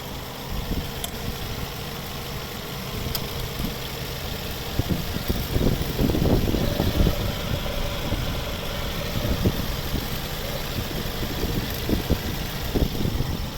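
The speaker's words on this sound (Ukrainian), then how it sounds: "Добре працює двигун" A petrol engine of a 2008 Mercedes A150, 1.5 litre with automatic gearbox, idles steadily at close range, a low continuous rumble with some rattling irregular knocks throughout.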